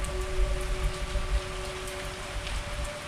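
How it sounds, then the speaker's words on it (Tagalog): Steady rain pours down in a constant hiss with scattered drops pattering nearby and a faint tonal hum underneath. "Malakas ulan eh."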